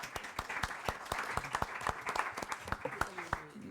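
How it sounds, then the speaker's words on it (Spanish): A few listeners at a university lecture clap faintly and unevenly, with sparse, distinct claps spread over a few seconds and quiet talk around them. "podemos aplaudir tamén,"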